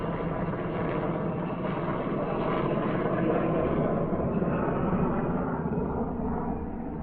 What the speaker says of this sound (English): Military helicopters.